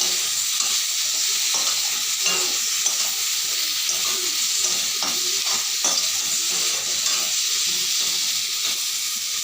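Sugar stirred in a pan as it turns to caramel gives a continuous loud sizzling hiss with soft, regular scraping strokes throughout, close up and without speech.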